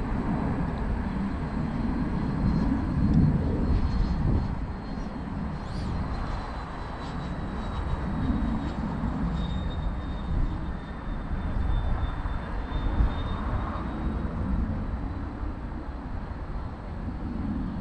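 Freewing F-22 90mm EDF model jet on its first flight, a steady loud ducted-fan whine and roar filling the air throughout, with a thin high tone sweeping as it passes overhead.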